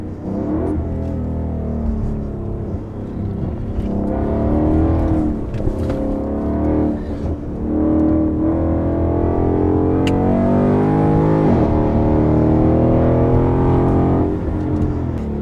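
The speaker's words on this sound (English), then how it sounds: "We took the new Mustang around the Dearborn test track, and instantly you could feel how much more confidence-inspiring it is around the turns" A new Ford Mustang GT laps the Dearborn test track, its engine droning steadily and loudly up close, rising and falling in pitch as it accelerates and eases through the turns.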